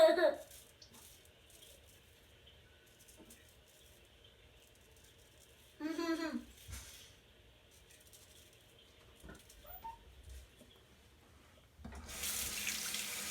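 A bathroom tap runs into a sink during washing before a wet shave, coming in a few intermittent gushes separated by quieter stretches with faint movement.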